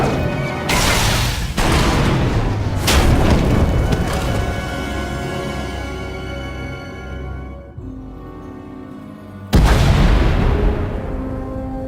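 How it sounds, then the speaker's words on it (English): Explosions shake a tunnel in the video game SWTOR as it collapses: heavy booming blasts and crashing debris, loud and close. Three big impacts come early, a long rumbling tail follows, and a fresh blast hits near the end. "heard explosions, the tunnel collapsed"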